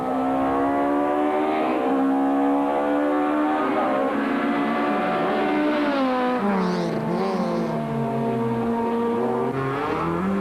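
A rally car during a stage of the 2003 Cape Rally, its engine droning loud and steady with rising and falling revs throughout, recorded from inside or very close to the car.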